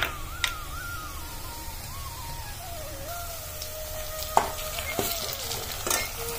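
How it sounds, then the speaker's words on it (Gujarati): Green chilli and garlic fry in a pan and are stirred, giving a soft, low sizzle broken by a few sharp scraping ticks, with a faint wavering whistle running beneath. "તો હવે આપણે નાખી લઈશું અહીંયા લીલું મરચું અને લસણ છે."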